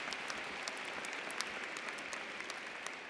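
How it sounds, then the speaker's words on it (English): Audience clapping at a university commencement ceremony, a fairly faint, steady patter of many hands heard from a distance with sharper individual claps popping out now and then. "that deserves a clap"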